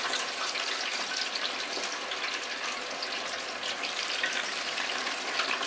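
Battered shrimp crackle and sizzle steadily in hot frying grease, a dense continuous hiss at close range with no voices over it.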